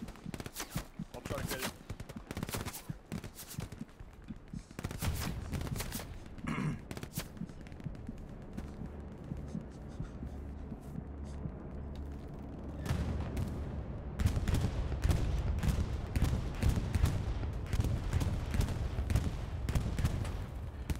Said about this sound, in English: Taking shots from the left.